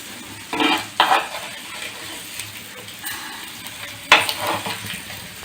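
Eggplant frying in a covered pan is turned over, with soft sizzling under a few sharp scrapes and clinks of a utensil against the pan.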